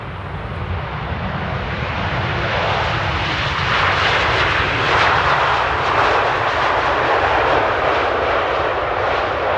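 A Boeing Dreamliner airliner arriving at Amsterdam Airport at sunset gives a loud, continuous jet engine roar that swells slightly toward the middle and holds steady throughout, heard alone without voices.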